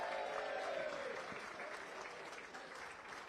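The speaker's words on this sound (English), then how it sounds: "Let's give a round of applause for Martin." An audience at a live football show gives a sustained round of applause, a dense, even patter of many hands heard at moderate distance, steady for the whole stretch.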